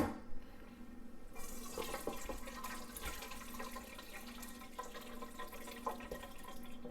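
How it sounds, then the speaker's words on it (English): Cooking liquid from crockpot pork hocks and vegetables is poured through a small strainer, a steady splashing gush starting after a brief quiet moment and continuing close by without talk. "So I'm gonna just kind of pour it through my little strainer here."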